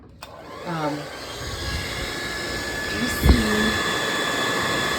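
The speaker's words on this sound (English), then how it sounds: "I apologize for the noise, but it is a hairdryer." Steady, loud blowing whoosh of a hair dryer melting candle wax off candlesticks, running throughout, with a brief spoken phrase near the start.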